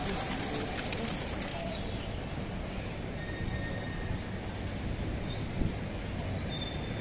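A flock of pigeons gathers over scattered grain outdoors, soft overlapping cooing and scuffling carrying steadily through a constant background hum.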